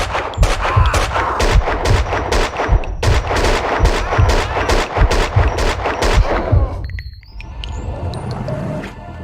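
Gunfire in the video game Max Payne 2: loud close bursts of rapid shots, some in quick volleys, fill most of the stretch before cutting off to a quieter electronic tone and rumble.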